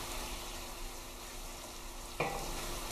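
Peppers and tomatoes cooking in a Nigerian yam-and-egg stew, a steady close sizzling bubble with one sudden louder burst near the end.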